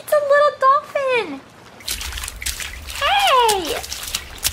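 Water splashes and sloshes close by as a small dolphin splashes, between bursts of high, squealing whistle-like calls.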